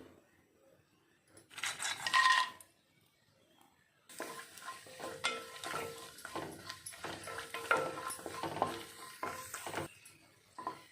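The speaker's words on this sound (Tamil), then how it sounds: "நெய்யில் முந்திரி பருப்பை நம்ம வறுத்து எடுத்துக்கலாம்" Cashew nuts roasting in about two spoons of ghee, stirred with a spoon, a short burst of scraping and clinking, then a steady close sizzle with frequent stirring and clatter against the pan.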